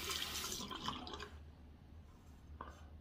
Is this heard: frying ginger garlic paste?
no